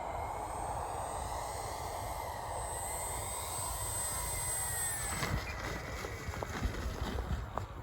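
Ski-equipped RC airplane landing on snow, its electric motor whining at a steady pitch under wind noise, followed by scraping, bumping sliding sounds as the skis touch down.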